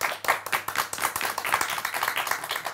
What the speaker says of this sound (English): I'd like to extend a massive applause for our two wonderful guests, David Stone